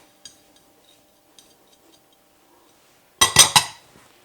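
A spoon stirs pancake batter with grated cheese and herbs in a bowl, giving a quick cluster of three or four sharp clinks against the bowl after faint, sparse earlier taps.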